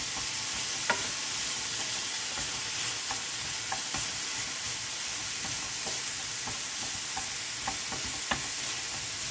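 Onions sweating in a pan give a soft, steady sizzle with occasional small pops and stir clicks, moderately quiet and continuous, no voices.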